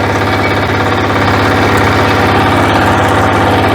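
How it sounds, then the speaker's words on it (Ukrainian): A diesel walk-behind tractor engine runs in first gear with a loud, close, rhythmic chugging thump and steady mechanical clatter throughout. "Вмикаю першу швидкість і починаю. рухатись."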